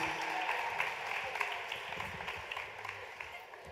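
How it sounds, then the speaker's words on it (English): A gala audience at a national dance competition claps in a soft, distant wash, continuous and fairly faint throughout with a scattering of sharper individual claps. "give these beautiful ladies a big round of applause as well"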